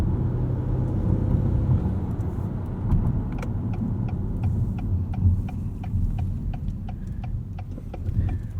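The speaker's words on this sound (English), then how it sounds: "The turn signal click, for example." Turn signal of a 2021 Acura TLX Advance SH-AWD clicking in a steady, regular tick-tock rhythm from about three seconds on, crisp and close over a low hum of road and engine noise inside the cabin.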